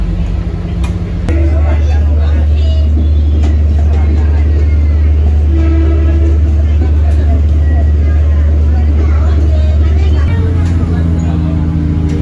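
Inside the KA Batara Kresna executive train between Solo and Purwosari, a loud, steady low rumble of the running carriage continues throughout, with faint chatter from passengers in the background.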